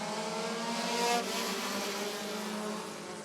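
Race cars at Rockford Speedway roar as a pack just after the green flag, a dense, steady multi-engine drone at moderate distance with a brief swell near the middle and no talk over it.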